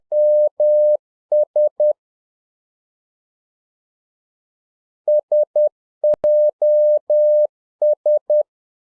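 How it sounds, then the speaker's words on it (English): Electronic beeps tap out a Morse pattern of three short, three long, three short tones, sent twice with a pause between and a click in the middle. "that is an official s.o.s. Morse code signal that they use for distressed cruise liners, boats"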